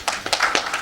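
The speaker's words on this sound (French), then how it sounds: "Sous vos applaudissements" An audience claps to welcome an invited guest at a talk in Dakar. Scattered, close handclaps come in quick irregular bursts within a very short moment.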